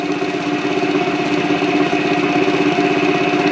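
A homemade lathe for Corian runs with its shaft spinning in greased wooden bearings, giving a steady, loud, unbroken mechanical hum that holds level throughout with no talking.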